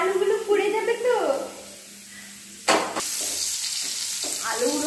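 Potatoes sizzle and fry in a pan, with a sharp burst of hissing midway and steady frying noise after it, while people talk over the cooking.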